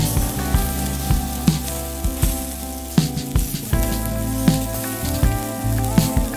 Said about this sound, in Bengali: এবার একটু একটু করে চানা ছেড়ে দিন